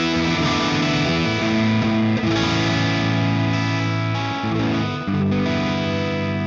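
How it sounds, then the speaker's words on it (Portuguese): A heavily distorted electric guitar, run through a cabinet impulse response, plays sustained, saturated chords with a thick, amp-like tone, loud and continuous with brief changes between notes. "finalmente a gente tem o nosso som de guitarra"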